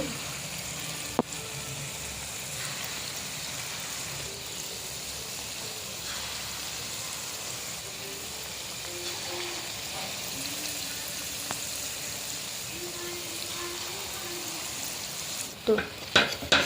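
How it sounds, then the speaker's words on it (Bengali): Banana fritters deep-fry in hot oil enriched with a little ghee, making a long, even crackling sizzle close by. Faint bubbling patters run through it, and a few clatters come at the end. "তেলটা গরম হয়ে গেছে এবার বড়াগুলো ছেড়ে দিচ্ছি"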